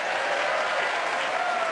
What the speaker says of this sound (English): don't be afraid to clap or cheer